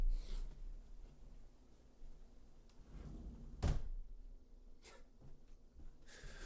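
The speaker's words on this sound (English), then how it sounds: "Closing the door as now my carpet is drenched." An indoor door swings shut with one solid, close thump, followed by faint shuffling and small knocks in a quiet room.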